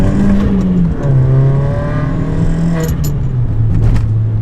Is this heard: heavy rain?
no